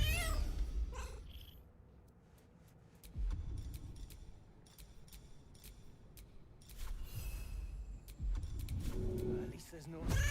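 A cat meows, purrs and caterwauls in a video game fantasy setting, with loud bursts of mewing and purring at the start and end. Quieter clicks and game sounds fill the middle.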